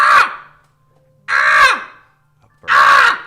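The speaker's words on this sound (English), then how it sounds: "It's a bird, obviously. Outside the door window." A bird caws loudly three times just outside a door, each harsh call spaced over a second apart with silence between.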